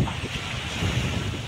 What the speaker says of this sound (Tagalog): Lakasan ko na lang yung boses ko kasi mahangin.